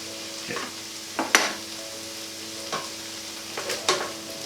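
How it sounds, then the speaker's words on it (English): Mushrooms sauté in a pan for a vegan butternut squash nut roast, a low sizzle broken by several sharp scraping stirs, close and moderately loud with no talking. "you can see the mushrooms now have really sautéed really well"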